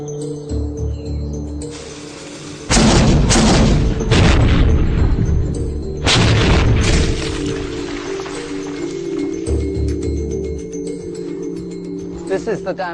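A small cannon fires a 1.5 kg cannonball on a light powder charge into a solid oak target, producing two loud, heavy booming impacts about three seconds apart, each followed by a rumbling decay over a steady background hum.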